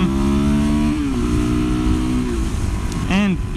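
Suzuki DRZ400SM supermoto motorcycle engine revving close up, a steady idle rising and falling through a couple of throttle blips, ending in a sharp quick rev near the end.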